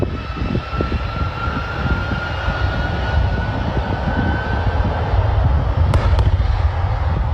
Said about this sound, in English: Watch as a massive airline's engine explodes just as it's trying to take off